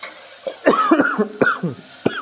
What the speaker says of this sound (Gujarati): બહુ ઉધરસ આવી ગયો.